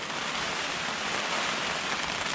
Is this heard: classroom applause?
no